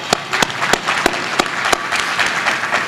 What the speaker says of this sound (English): So I just want to give a hand clap to you all for that